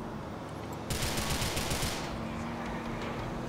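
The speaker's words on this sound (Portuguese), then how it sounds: "É bom a gente esperar pra chegar perto pra atirar." Automatic gunfire fires during a chase in the video game GTA IV, a loud rapid burst of about a second that cuts in over a low engine rumble, then gives way to steady driving noise.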